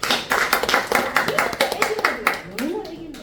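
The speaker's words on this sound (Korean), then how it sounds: "박수." Brief bursts of hand clapping from a small group at a hair salon, irregular and close, mixed with chatter and talking.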